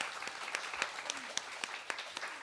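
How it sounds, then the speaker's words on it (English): Audience applause for young performers at a tabla and music performance, a dense steady patter of clapping with a few sharper claps standing out, fairly close and continuous throughout. "Please give a big hand for these little ones here."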